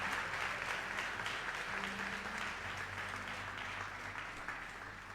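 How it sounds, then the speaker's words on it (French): Congregation applauding 25 consecration candidates at a church worship service: steady, dense clapping throughout, with faint musical tones held underneath. "Applaudissez-les s'il vous plaît."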